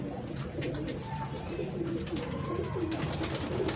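Soft cooing of a Lakha (Rat) breed flying pigeon, low and throaty, repeating against a steady background hum and rustle.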